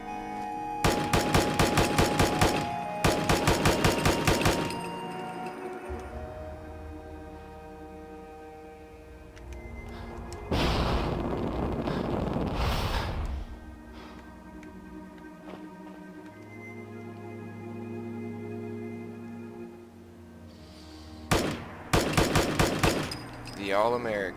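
Assault Carbine from a Fallout 4 weapon mod fires two loud, rapid automatic bursts at the start and more short bursts near the end, with quieter mechanical sounds and tones between them.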